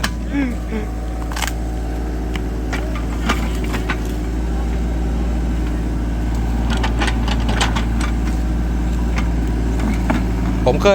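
A farm tractor engine idles and works steadily nearby while the machine pushes over tree stumps to clear ground for a house. Scattered clanks and knocks ride over the constant low drone, and someone talks at times.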